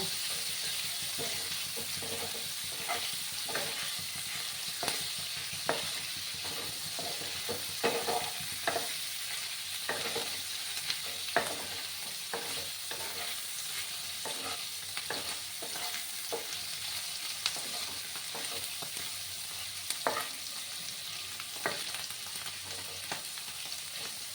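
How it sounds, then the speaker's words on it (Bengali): Paneer pieces lightly salted and frying in a pan until reddened, a quiet steady sizzle with scattered taps and scrapes of a spatula turning them, close but soft. "একটু লাল করে আমি পনিরগুলোকে ভেজে নেব।"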